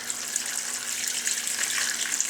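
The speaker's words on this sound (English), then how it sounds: "I'm going to put some water in here." Tap water runs steadily into a pan in a home kitchen, a continuous bright hissing splash that stays close and unbroken throughout, with no talking.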